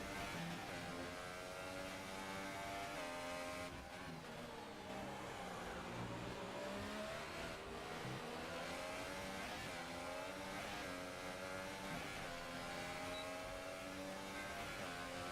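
Formula 1 race cars in the F1 2018 video game at the British GP, engines screaming and shifting pitch as they accelerate and run close together, a dense continuous roar with rising and falling revs.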